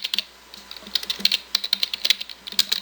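Quick bursts of typing on a computer keyboard, with crisp, irregular key clicks in short clusters and brief pauses between them, close and clear with no voices.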